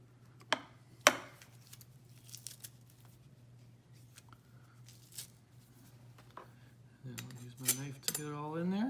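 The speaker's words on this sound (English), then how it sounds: "I'm going to go ahead and put 2 cloves through there" Two garlic cloves squeezed through a Zwilling garlic press, with sharp metallic clicks and crunches close by, separated by quiet gaps, ending in a cluster of clatter and scraping.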